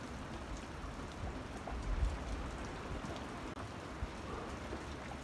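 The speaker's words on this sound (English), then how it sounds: "my oh my, what a rainy day" Steady, moderate rain from the remnants of Hurricane Helene falling over Southern Illinois, an even hiss of drops on surfaces with no voices, recorded from a sheltered spot at a constant level throughout.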